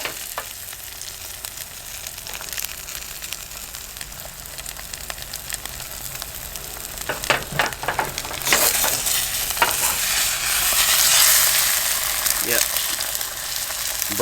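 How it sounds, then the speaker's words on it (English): Butter heating in a hot Pathfinder carbon steel skillet held over a stove, a soft crackle swelling into a loud broad sizzle midway, with a few close metallic knocks and some talk. "burn that butter just a little bit"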